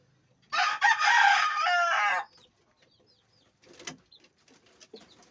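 A three-month-old raptor sweater cross gamefowl rooster gives one loud, close crow, followed by a few faint, scattered clucks.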